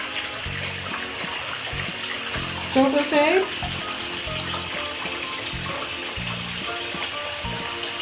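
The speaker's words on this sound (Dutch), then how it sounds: "Ja, er komt heet water uit, hè?" Hot water running from a bathroom tap during an evening bath routine, a steady rush and splash under children's and adults' talking, with a brief louder burst of bubbling near the middle.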